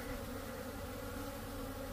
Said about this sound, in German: Hier lässt es langsam auch wieder nach, der Bienenflug war vorhin intensiver.